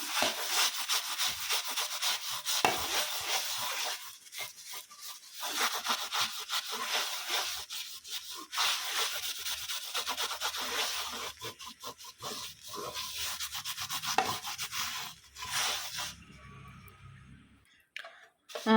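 Steady rubbing and scrubbing of a copper pooja plate with Vim cleaner, continuous abrasive strokes close by for most of the stretch, easing off and fading near the end.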